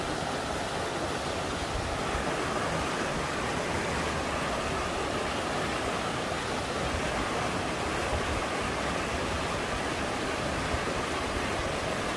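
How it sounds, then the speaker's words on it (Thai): A waterfall at Tham Chang cave in Vang Vieng, Laos gives a continuous dense roar of falling water, steady and fairly loud throughout with no voices. "น้ำตกอยู่ถ้ำจังเนาะ"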